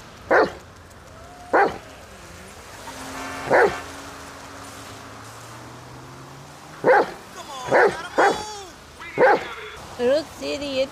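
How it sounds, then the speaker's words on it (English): Dogs in the GTA V video game bark repeatedly in sharp, spaced bursts, mixed with higher whining and howl-like tones, fairly close and clear with no one talking. "I hear a lot of howling."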